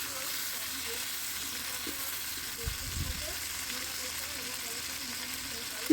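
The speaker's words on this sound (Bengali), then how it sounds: "মোটামুটি তেলের মধ্যে একটু উল্টে পাল্টে ভালো করে ভেজে" Pointed gourd (potol) frying in oil in a pan, giving a steady close sizzle throughout, with a couple of soft thuds midway as the pieces are turned over.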